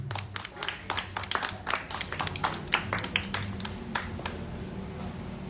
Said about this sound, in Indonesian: tepuk tangan untuk Azizi Asadel